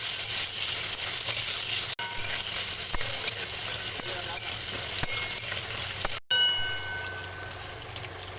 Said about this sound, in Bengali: এবার কাঁকড়াগুলোকে আমি হালকা করে 2 মিনিটের মতন ভেজে নেব